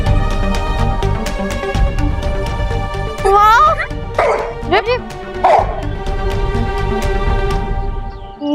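Small cartoon-style dog yips and whimpers in a few short bursts over a busy superhero-show soundtrack of music and effects, with voices talking before and after.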